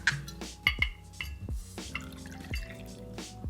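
Bourbon poured into an apple butter old fashioned cocktail, a few quick splashing drips and a short liquid trickle into a glass, close and fairly quiet.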